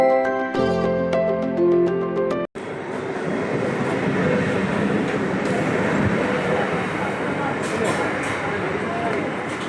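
A loud, steady rumble of a moving train fills the clip after a brief burst of music, with crowd chatter mixed into the constant roar.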